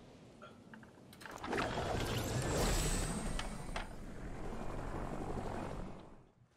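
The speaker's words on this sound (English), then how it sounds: "let's deploy the airlift real quick" An airlift glider deploying in a shooter video game: a rushing, roaring swell of wind and engine-like noise builds and holds for several seconds, with faint clicks scattered through it before fading out.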